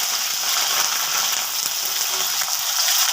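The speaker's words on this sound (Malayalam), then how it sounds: "അരിഞ്ഞു വെച്ചിരിക്കുന്ന സവാള ഇട്ട് കൊടുക്കാം" Chopped onions frying in hot oil after mustard seeds, a loud, continuous close-up sizzle that holds steady throughout with slight stirring scrapes and no voices.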